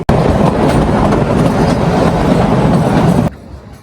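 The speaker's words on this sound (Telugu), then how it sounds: "సో ట్రైన్ మన నెక్స్ట్ స్టాప్ కి అయితే వచ్చేసింది" The Kalka–Shimla narrow-gauge toy train rumbles loudly and steadily on its rails with a continuous clatter, then cuts off abruptly near the end.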